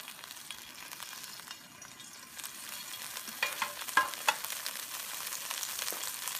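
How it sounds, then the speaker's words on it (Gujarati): Olive oil heating in a pan on a stove gives a steady, close hiss of frying, with small pops and crackles building over the last few seconds and no talk. "એની અંદર હું પાછું ઓલિવ ઓઇલ થોડુંક નાખીશ. એક વખત આપણું ઓલિવ ઓઇલ ગરમ થશે"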